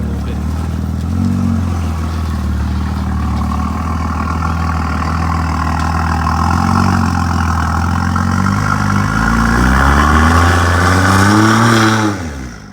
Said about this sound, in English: You should try doing a burnout quickly.